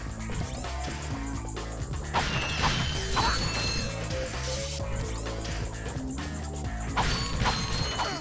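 Crates smashed in the video game Ratchet and Clank, repeated cracks and thwacks with clanking pickups over game music, while a player talks now and then.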